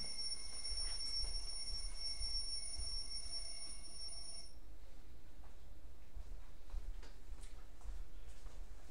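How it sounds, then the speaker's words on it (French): A mobile phone alarm rings with a steady high electronic tone for about four and a half seconds and then cuts off, leaving a quiet room hum. "Une alarme que j'avais oublié de désactiver."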